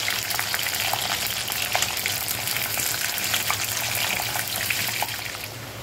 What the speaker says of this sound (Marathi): आता ह्याच तेलात थोडंसं रियाला मी फ्रेंच फ्राईज फ्राय करून देते